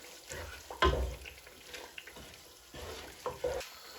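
Mashed boiled black chickpeas roasting in a pan, a quiet sizzle broken by a couple of sharp scraping stirs of a spoon, close by with no talk.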